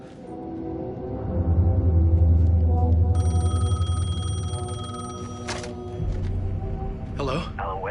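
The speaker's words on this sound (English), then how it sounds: "phone was ringing." Telephone ringing in the video game Alan Wake 2: a bright electronic ring repeating over a low, droning backdrop, with a voice speaking partway through.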